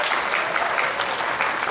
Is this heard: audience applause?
yes